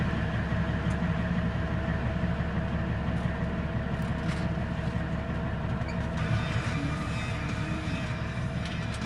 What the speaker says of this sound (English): Start those engines. Fire this thing up